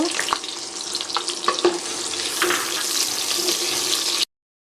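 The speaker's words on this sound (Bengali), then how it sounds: "তেলটা গরম হয়ে গেছে, এখন আমি একটু সামান্য পরিমাণ জিরা ফোড়ন দিব। তারপরে এই পেঁয়াজ কুচি দিয়ে নিব।" Cumin seeds and chopped onion fry in hot oil, a loud, close sizzle broken by a few sharp crackles and stirring clatters, then an abrupt stop.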